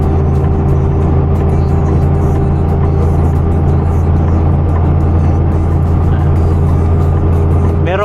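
A truck engine runs as the driver works the accelerator, giving a loud, steady, close-up low drone with a constant hum and no clear surges.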